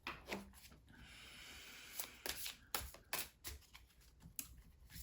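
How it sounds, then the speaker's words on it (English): A deck of playing cards is shuffled close up in quiet, repeated bursts of riffling and soft slaps, with irregular pauses between the strokes. "even the way I'm shuffling the cards right now"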